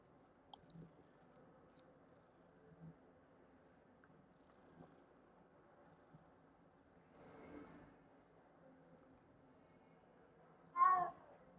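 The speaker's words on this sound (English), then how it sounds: "There's a cat." A cat meows in the Hogwarts Legacy video game, a couple of faint cries among quiet ambience and soft ticks, then one louder, closer meow near the end.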